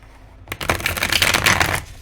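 A deck of tarot cards being riffle-shuffled by hand, a dense flurry of crisp paper flutter lasting about a second and a half, close and fairly loud, ending in a soft settle.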